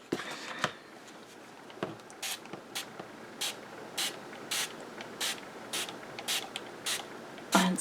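Repeated short hissing bursts of a hand spray bottle misting a project laid on a craft mat, about a dozen quick spritzes in a steady rhythm, close and fairly crisp with a few faint handling clicks between them.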